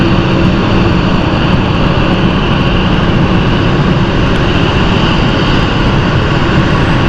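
A Dash 8 turboprop at London City airport roars loud and close, a dense sustained propeller and engine drone that stays constant from start to finish without any speech.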